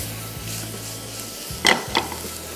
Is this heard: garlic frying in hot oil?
yes